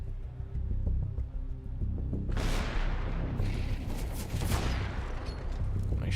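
Gunfire in a Counter-Strike esports match at BLAST Premier Spring Groups 2023, loud bursts of rapid shots rising suddenly after a low rumble and continuing densely for several seconds.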